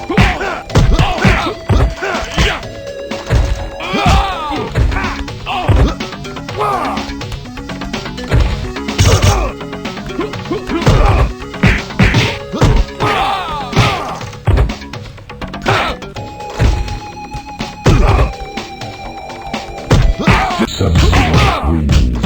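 Mortal Kombat Karnage fighting game combat, with dense, rapid smashing and thudding hit impacts punctuating a busy, loud mix of game sound throughout, plus occasional voice effects.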